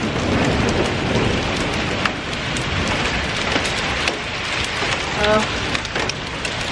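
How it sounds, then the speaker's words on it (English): A dense roar of heavy rain and hail pounds down in a South Dakota thunderstorm, steady and loud throughout, with scattered sharper hits on a car and a brief exclamation from a person. "it's raining, thunderstorms, lightning. And it's hailing."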